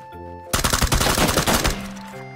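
Rapid automatic gunfire in the PUBG video game rattles out as a dense, loud burst of shots lasting under two seconds, set against a faint game background tone.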